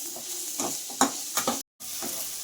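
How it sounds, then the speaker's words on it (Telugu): Ivy gourd frying with chili powder and egg in a pan, a soft, steady sizzle broken by a few scraping stirs and one brief dropout. "బాగా కారప్పొడి వేసిన తర్వాత పచ్చివాసన పోయేదాకా వేపుకోండి బాగా."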